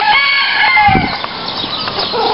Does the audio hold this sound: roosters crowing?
yes